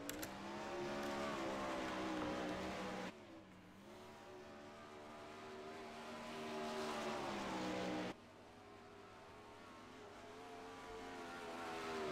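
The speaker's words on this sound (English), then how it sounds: "And also rolling out in front of him now will actually be the number 9 of Drew Neal." 410 sprint cars roll around a dirt race track, their engines droning loudly and continuously with rising and falling pitch as they pass, the sound cutting abruptly at a couple of points.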